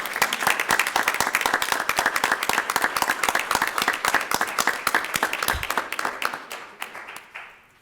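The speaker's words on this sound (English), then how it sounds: "we'll give you another round of applause for coming out," Sustained audience applause at a school board of directors meeting, dense steady clapping from a room of people that continues for several seconds, then thins out and fades to scattered claps near the end.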